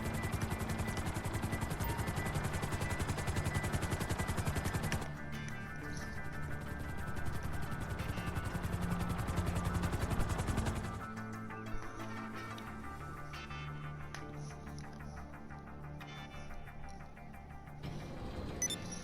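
Helicopter rotors in the video game Grand Theft Auto V thrum steadily at first, then the sound shifts to a thinner mechanical drone with scattered tones, all fairly quiet and without speech.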